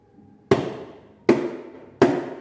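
Three sharp, bright slaps on the small ketipung drum of a Javanese gamelan kendang set, evenly spaced and each ringing briefly before fading, played alone and close.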